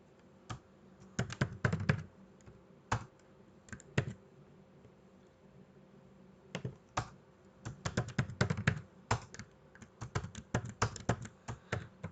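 Script code being typed on a computer keyboard for a Django and jQuery project: quiet, close key clicks in irregular bursts with several pauses, some brief single taps, and no talking.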